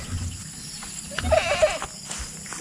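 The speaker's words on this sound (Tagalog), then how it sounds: "Tignan natin yung ating mga kambing." Goats bleat a few times at moderate distance, short wavering calls over quiet outdoor background with soft rustling.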